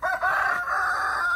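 A rooster on a farm crows once, loud and close, a sustained strained call that breaks briefly partway through, with no voices.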